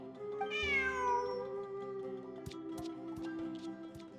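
Game cat in Genshin Impact gives a single clear, rising-then-falling meow up close, followed by soft light clicks and ambient background tones.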